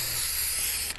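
Spray paint hissing out of a can as graffiti is sprayed in the Fortnite video game, one steady, loud, close hiss running almost the whole second before cutting off.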